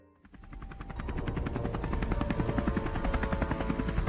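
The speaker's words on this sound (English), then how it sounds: "a helicopter, possibly the same one that had chased us, hovered by" A helicopter's rotor thumps rhythmically and grows louder as it approaches, a steady chopping drone with no voices.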